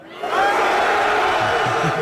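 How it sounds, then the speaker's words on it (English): Raucous crowd noise greets Defense Secretary Pete Hegseth, a loud wall of cheering, whoops and shouts rising sharply after a brief quiet start and holding steady to the end. "Defense Secretary Pete Hegseth was greeted by raucous applause"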